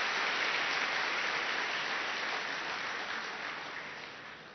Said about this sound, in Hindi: बहुत अच्छा, ताली बजाओ